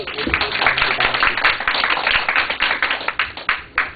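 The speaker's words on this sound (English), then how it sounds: "We should give her a round of applause." An audience at a talk claps in a quick round of applause, a brisk patter of fairly close individual claps that thins toward the end, with some speech mixed in.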